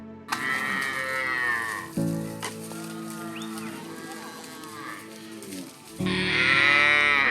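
Cattle lowing in a Maasai village, several long, deep moos following one another at close range, one fading before the next begins and a louder call closing the stretch.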